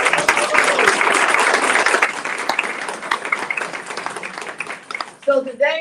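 Audience applause at a Hamilton County State of Cancer event, a dense wash of clapping that fills most of the stretch, thins out, and gives way to a voice speaking at the end.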